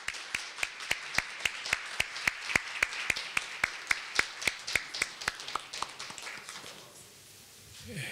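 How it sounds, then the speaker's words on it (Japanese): A few people clap in slow, evenly spaced, distinct claps at a press conference before a Shoot Boxing and RISE kickboxing event, fairly close, fading out after about six seconds. "皆様大きな拍手でお迎えください。"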